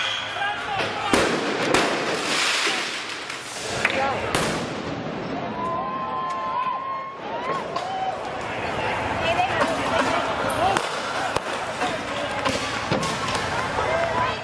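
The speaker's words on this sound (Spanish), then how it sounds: "vemos a manifestantes lanzar contra el edificio de los juzgados fuegos artificiales y gas lacrimógeno" Fireworks launched by protesters toward a courthouse building in Portland crackle and bang in repeated sharp bursts amid a noisy street crowd, with whistling rising tones and constant background commotion.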